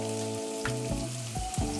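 Diced onions sauteing in a cast iron skillet give a steady broadband sizzle, with a sustained tone and a few soft scrapes running underneath it and no voices.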